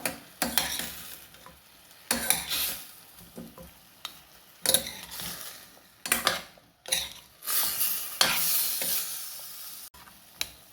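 Chicken with ground coriander, cinnamon and fennel is stirred in a pan, with repeated scraping strokes of a utensil against the metal in irregular bursts over a soft sizzle, close and fairly loud, with no talk.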